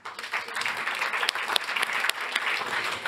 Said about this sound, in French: Et on accueille à présent, sous vos applaudissements, Christophe Aubourg, directeur général de Planète CSCA